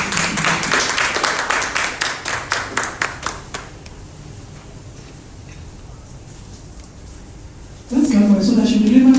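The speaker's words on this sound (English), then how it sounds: "Let's clap for her." Clapping from a small audience at a hospital training session, a few seconds of scattered, individual handclaps that thin out and stop, followed by quiet and then a voice starting to speak.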